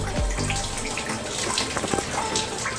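Cold shower water pours in a loud, steady rushing spray close by, filling the whole stretch with a continuous hiss and splatter and no talk.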